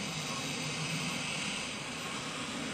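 A car engine fitted with EZ-EFI fuel injection idles while warming up, giving a steady, continuous drone with no voices.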